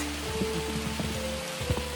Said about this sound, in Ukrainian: Звісно, попали під дощ.